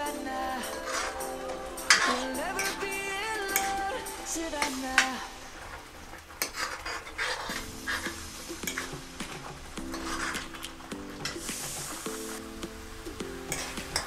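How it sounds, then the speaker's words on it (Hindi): Spice masala with chili powder being stirred and roasted in a pan for dal makhani, soft scraping strokes and gentle sizzling at a quiet level, with background music playing. "1 टीस्पून मिर्च पाउडर, 1 इसको अच्छे से भून लेना है मुझे।"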